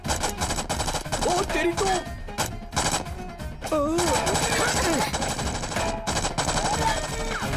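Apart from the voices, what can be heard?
gunfire in an action movie scene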